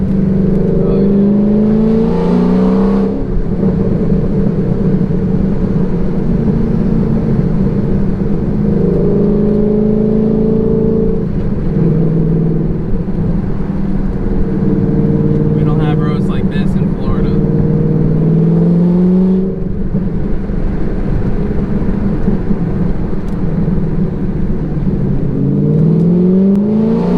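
A Ford GT engine accelerating on cold tires, its rising and falling harmonic roar repeating through several gear pulls, loud and close from inside the car, with people talking over it throughout.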